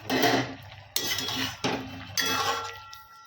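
A lid lifted off a cooking pot of cauliflower, potato and tomato being boiled with turmeric and salt, giving three sharp metallic clinks and clatters of pot and lid, close and loud, each ringing briefly before the next.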